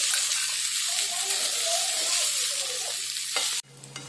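A tempering for raw mango rice sizzles steadily and loudly in hot oil for about three and a half seconds, then stops abruptly, leaving a quieter background.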